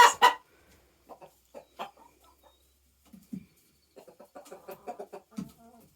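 Chickens cluck and squawk inside a chicken coop, with a loud burst of squawking at the start, then scattered soft clucks and a busier run of clucking toward the end, close by.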